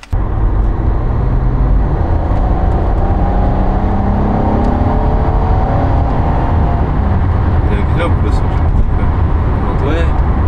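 A Renault Laguna 3 V6 running on E85 ethanol revs on a dyno, a loud continuous engine drone with rising pitch sweeps as it climbs, close and dominant throughout.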